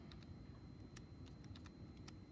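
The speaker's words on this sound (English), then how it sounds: "So hopefully I'm typing these in right." Soft, scattered taps of keys on a computer keyboard, faint against a low background hum, with irregular spacing between keystrokes.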